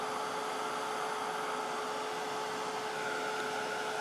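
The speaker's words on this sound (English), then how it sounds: "I think my heat tool is too old already." An aging heat tool blows steadily, drying paper misted with shimmery Glimmer Mists, a constant close whooshing hum with a faint whine and no pauses.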